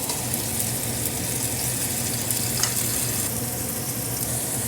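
Garlic sautéing in hot olive oil while cooking ginataang monggo, giving a steady, close, continuous sizzle and crackle with no talking.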